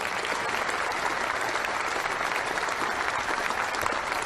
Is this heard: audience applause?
yes